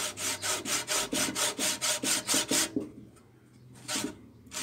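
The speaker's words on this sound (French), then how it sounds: "j'utilise une scie japonaise qui est ici" A Japanese pull saw cuts a wooden dowel flush with a wooden stool seat. Quick, regular back-and-forth strokes rasp loudly and close, then pause briefly before a few slower strokes resume.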